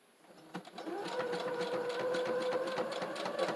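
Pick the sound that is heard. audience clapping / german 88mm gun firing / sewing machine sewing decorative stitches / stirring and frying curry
sewing machine sewing decorative stitches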